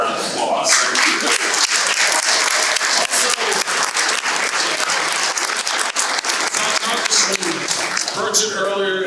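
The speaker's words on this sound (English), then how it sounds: "Can you all please raise your hands so we can give you all a round of applause?" An audience at a stadium opening gives elected officials a round of applause: dense, loud clapping that carries on steadily throughout, with a voice heard near the end.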